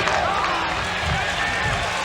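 A crowd at Yankee Stadium rumbles and murmurs during a 1993 Cleveland–Yankees game, a broad sustained roar with a commentator's voice running over it.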